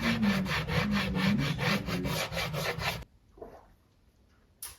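A hand tool rubbed back and forth over the edge of a model train layout's roadbed to bevel it, giving about a dozen quick rhythmic rasping strokes, close up, before stopping into near silence with one last scrape.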